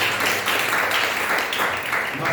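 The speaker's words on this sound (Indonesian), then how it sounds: "Tepuk tangan buat Yesus." Church congregation applauding during a sermon, a broad continuous wash of many people clapping at once, loud and close, briefly and without speech.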